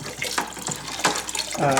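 Boiled priming sugar water is poured into a homebrew beer bucket, a close, splashing liquid pour with gurgling bursts that swell toward the end.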